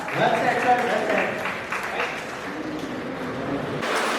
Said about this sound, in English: Round of applause for the sir.